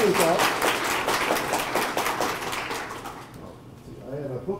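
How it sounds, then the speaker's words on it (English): Audience applause at a data science meetup, a dense patter of clapping that starts loud and fades out over a few seconds, with a voice speaking faintly near the end. "Please give applause."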